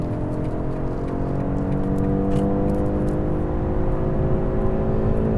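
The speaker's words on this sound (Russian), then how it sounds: "Включаем спорт Экстра Буст, потому что сейчас будет неограниченный автобан." Inside a BMW 530e xDrive plug-in hybrid accelerating hard in sport mode on an unrestricted autobahn, with a steady, loud engine and drivetrain drone plus road and wind rush building gradually.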